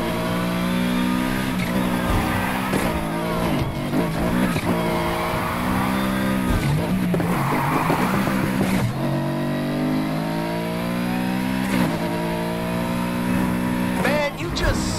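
A race car in Need for Speed Heat revs hard and loud throughout, its engine pitch climbing and dropping through gear shifts, with tire squeal and skidding now and then and a voice talking over it.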